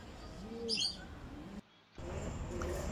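Modena pigeons cooing in a loft, soft low coos over background noise, with a brief sharper chirp and a short silent dropout midway.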